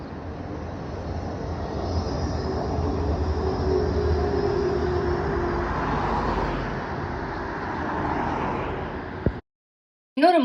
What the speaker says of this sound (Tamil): இது பாருங்கள், ட்ராம் போகுது பாருங்கள்.